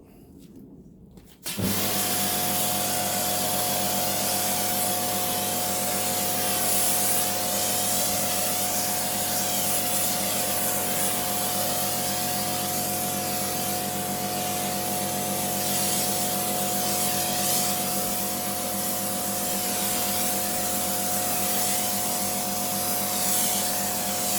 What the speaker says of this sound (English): I'm going to apply a second coat. I'm going to do it with the Karcher FJ6 again